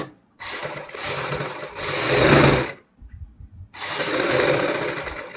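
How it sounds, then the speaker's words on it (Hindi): A sewing machine runs a double line of stitching along a kurti neckline over the piping and potli buttons, loud whirring bursts separated by a brief pause, close up with no talking. "अब दोस्तों हम गले के ऊपर जो डबल सिलाई लगा लेंगे।"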